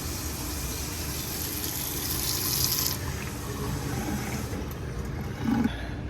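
Water runs steadily from the faucet of a newly replaced restaurant hand wash sink and splashes into the basin with good pressure. The flow is loud and continuous, with a brief clatter near the end and no speech.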